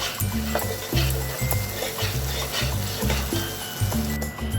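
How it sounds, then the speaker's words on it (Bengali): Salt and Kashmiri chilli powder being sautéed with spices in a hot pan for a sesame-milk pomfret fish curry, a steady close sizzle under repeated scraping stirs of a spoon, no talk. "এবার এর মধ্যে নুন কাশ্মীরি লঙ্কা গুঁড়ো দিয়ে ভালো করে কষতে হবে"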